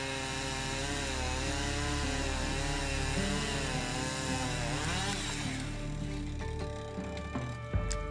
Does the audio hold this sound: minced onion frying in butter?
no